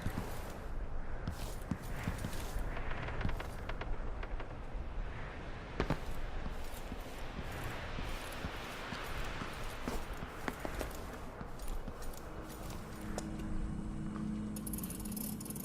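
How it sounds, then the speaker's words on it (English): Footsteps of a player character in the video game Dishonored Death of the Outsider, heard as soft, irregular close steps and scuffs over a steady game ambience bed, with a few sharper clicks and no voices. "notice how the step sounds a little bit off when we take brief strafing into account"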